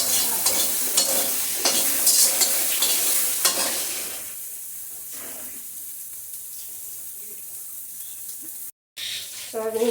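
Soybean chunks fry in oil in a pan with loud, busy stirring and scraping over a sizzle for the first few seconds, then a quieter frying hiss with occasional clinks.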